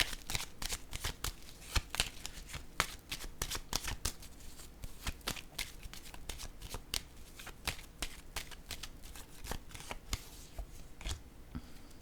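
Tarot cards shuffled in a fast, dense run of sharp riffling snaps and flicks, close and fairly quiet, continuing steadily with no talk.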